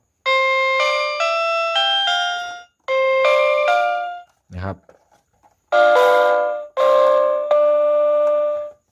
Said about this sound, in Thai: อันนี้ออแกนนะครับน่าจะเป็นออแกน